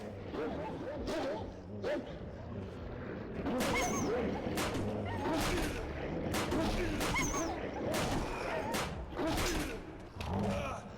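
A gun in the game 35MM fires a series of sharp, irregular cracks over a busy, noisy background that includes barking-like sounds, with a voice speaking at times.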